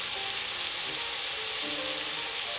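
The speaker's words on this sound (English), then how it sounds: "we're just going to saute these for about 2 minutes" Vegetables sautéing in a pan for broccoli cauliflower cheddar soup, a dense, steady sizzle and crackle heard up close, unbroken across the whole stretch.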